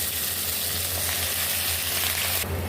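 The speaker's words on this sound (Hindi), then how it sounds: "2 से 3 मिनट अपने कीमे को फ्राई कर लेना है।" Beef mince fries in oil with garlic in a pan, giving a steady, dense sizzle that stays close and loud throughout, with no voices.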